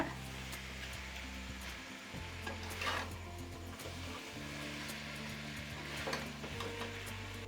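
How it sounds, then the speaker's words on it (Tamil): A dish mixed with coriander leaves being gently stirred, with soft scraping and faint sizzling under a low steady hum, quiet and close with no talk. "பொறுமையாக இந்த மாதிரி கலந்து விட்டுக்கோங்க நல்லா மிக்ஸ் ஆகிடும்"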